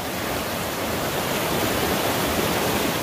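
Water rushes steadily nearby, a constant broadband hiss of a flowing mountain creek on the Skyline Trail in Jasper National Park, with no voices.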